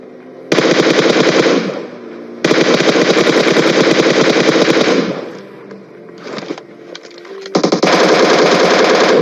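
Rapid automatic gunfire in a shooter video game, loud, close bursts of machine-gun fire separated by short gaps and scattered single shots, with no talking.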